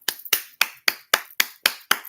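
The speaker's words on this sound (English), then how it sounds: "I'm clapping it up for you" Eight sharp hand claps in a steady, even rhythm, close and crisp, each one ringing briefly before the next.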